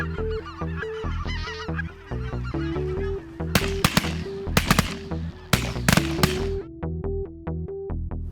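Specklebelly geese honk repeatedly in a steady, close, loud series of calls during a goose hunt, with several sharp gunshots cracking through the middle of the calling.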